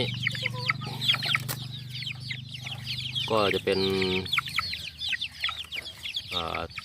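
Chickens of mixed village and fighting-cock bloodline, kept in a coop or cage, cluck and call repeatedly in short bursts, fairly close, with someone talking at the start.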